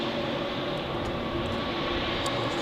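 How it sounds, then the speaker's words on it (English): An Edelweiss airliner rolling out after landing at Zurich Airport, a steady broad engine roar with a faint whine, continuous and fairly loud at a distance with no talk. "now you can see the Edelweiss, which has just landed and vacates the runway"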